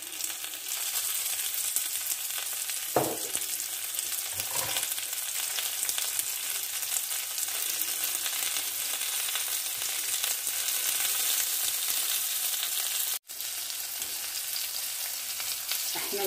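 Onions sizzling in hot oil in a pan, a steady broadband frying hiss lasting throughout, with a couple of brief louder bursts early on and a momentary dropout near the end; no talking.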